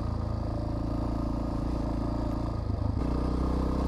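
A motorcycle ridden along Mount Herman Road, its engine a loud, steady rumbling drone with rattling clatter and wind, shifting pitch briefly near the end as the ride continues.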